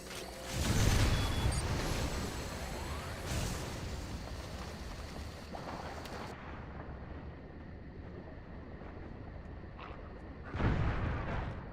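Explosions rumble through the sci-fi action game Metroid: Other M: a loud booming blast, then lingering debris and rumble, a weaker crack or two in the middle, and a second strong boom near the end, with no talk.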